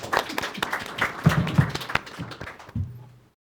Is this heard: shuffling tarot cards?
no